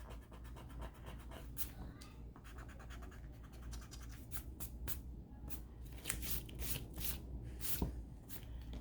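Pencil eraser rubbing lines off paper while drawing a minion, a faint close scratchy back-and-forth scrubbing in irregular bursts, continuing without pause.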